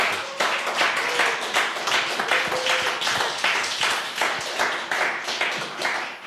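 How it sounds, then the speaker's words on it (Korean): Audience clapping for a soprano guest singer at a community worship service, a lively close applause with distinct individual hand claps in an uneven rhythm, sustained throughout. "박수 한번 보내주십시오."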